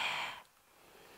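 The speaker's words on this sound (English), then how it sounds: "You kind of want to stay away from the high-pitched breaths," A tense, high-pitched inhaled breath of the kind a French horn player should avoid, a short airy rasp in the first half second, close and fairly loud, then near silence.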